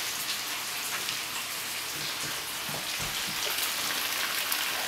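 Escarole and radicchio sauté together with fried fingerling potatoes in a hot pan, giving a steady, dense hiss like rain with fine crackle throughout and no talking.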